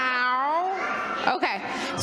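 A voice imitates a cat's meow with a long, drawn-out, falling meow and then a shorter second one, close and clear.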